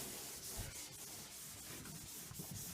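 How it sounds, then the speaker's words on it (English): A dry rag scrubs hard across a wet bathtub surface, giving a close, steady rasping friction in quick repeated strokes with no talking. "you can tell I am scrubbing"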